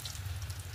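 Vegetable chops coated in flour and toast crumbs fry in hot oil over a low flame, giving a steady, close sizzling hiss throughout a brief moment with no talking.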